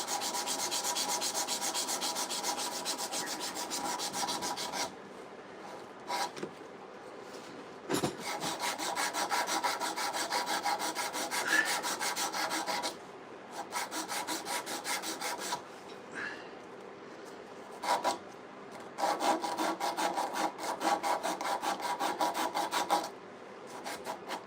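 A rasp files and reshapes the wooden handle of a handsaw in long runs of steady, gritty back-and-forth strokes, close and loud, broken by brief pauses.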